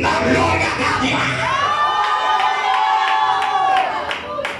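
A church congregation shouting praise to God in unison, a loud continuous mass of voices and cheers filling the room, with a sustained collective cry rising through the middle.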